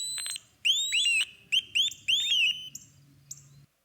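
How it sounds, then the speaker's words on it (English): Electronic birdsong synthesized by analog sequencer circuits: rising and falling whistled chirps in quick bursts that switch on and off, over a low steady hum, with no voices. "So that's what's turning the bird songs on and off, so they're not constantly going"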